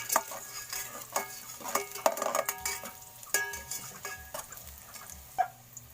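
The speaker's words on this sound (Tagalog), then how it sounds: "Una nating ilunod yung ating bawang. Ayan. At ating ihalo para maksip-sip sa ating mantika." Garlic dropped into oil and stirred for chicken tinola, a soft sizzle under repeated clinks and scrapes of a spoon against the pot, close and moderately loud, no speech.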